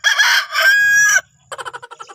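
A rooster crows loudly and close by in one long call, followed by a short run of soft clucking.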